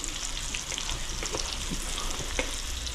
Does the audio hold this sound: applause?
no